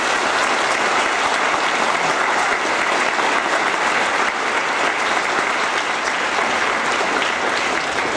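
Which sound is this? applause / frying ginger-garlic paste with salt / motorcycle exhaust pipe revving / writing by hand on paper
applause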